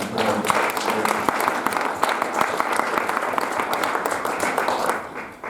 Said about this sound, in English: I'd like to give one last round of applause to the New York Public Library for their heroic work